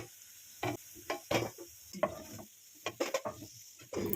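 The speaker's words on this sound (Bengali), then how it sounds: "পরবর্তী বড়াগুলো একইভাবে সব ভেজে নিচ্ছি।" Mustard flower fritters fry in hot oil, a close sizzle broken by repeated bursts of bubbling and spoon movement in an irregular rhythm, with no talking.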